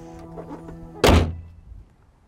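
A heavy door on a 2023 Land Rover Defender 90 P525 V8 swings shut with one solid, deep thunk up close, then a short low resonance that fades. A quiet engine idle hums underneath beforehand.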